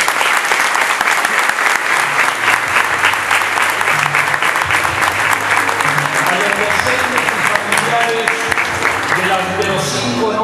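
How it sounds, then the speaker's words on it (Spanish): A loud, sustained round of applause for 90-year-old Marta Charrón at a school's golden anniversary celebration, many hands clapping densely and evenly for about ten seconds with faint voices underneath. "Un fuerte aplauso para ella."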